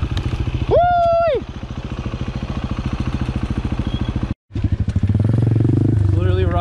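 An Apollo RFZ Chinese dirt pit bike rides along a trail, its small single-cylinder engine putting out a steady rapid putter close by, briefly cutting out, then pulling harder again, with a person whooping and talking over it.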